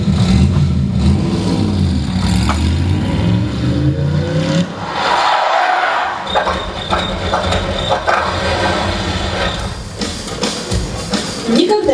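A car engine revs and roars with rising and falling pitch, loud and close, with speech mixed in and a brief dip in the middle.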